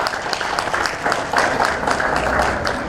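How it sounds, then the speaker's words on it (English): Audience applause at a school appreciation award and dinner ceremony, loud sustained clapping from a crowd filling the whole stretch, close and dense. "may I have another round of applause?"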